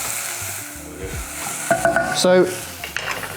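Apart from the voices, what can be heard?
onions and vegetables sizzling in an oiled pan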